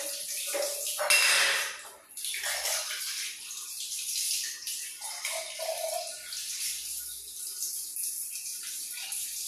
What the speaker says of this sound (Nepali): आज चाहिँ मैले टाइम निकालेर पनि यस्तो गरेर पानी चेन्ज गरिरहेको छु